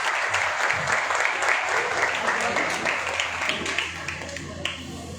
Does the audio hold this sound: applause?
yes